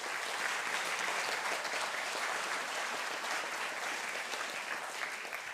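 A conference audience applauds steadily and evenly, a dense wash of clapping that holds at a moderate, somewhat distant level for several seconds.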